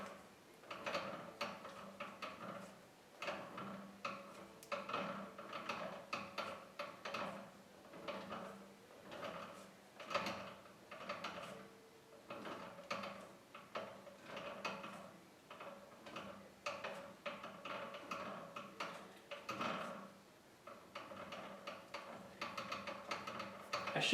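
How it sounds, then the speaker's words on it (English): Threads being tapped dry into a cast iron rocker box on a machine shop drill press, giving a steady run of small clicking, ticking mechanical sounds with a moderate, uneven rhythm throughout and no talking. "so I'm tapping dry"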